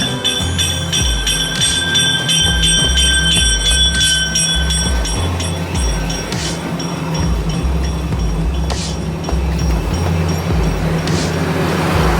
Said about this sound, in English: the Hurricane Turn train pulling into the station